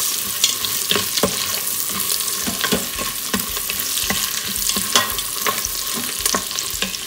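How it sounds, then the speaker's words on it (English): Green chilies and garlic cloves fry in a pan for methi matar pulao, a continuous close sizzle broken by regular scraping clicks of a spoon stirring, with no one talking. "add green chilies and garlic cloves. Give that a good mix."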